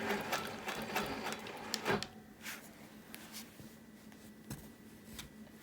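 A quilting sewing machine stitches along a line on a wholecloth quilt, making quiet clattering bursts of rapid stitches followed by softer, sparser ticks as it slows.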